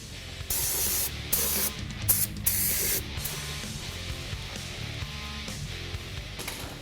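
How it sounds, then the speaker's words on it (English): Brake cleaner sprayed over disassembled Mustang differential parts during a ring and pinion install, giving a long loud hiss followed by several shorter sprays close by in a workshop. "grab some brake clean, just clean it all up."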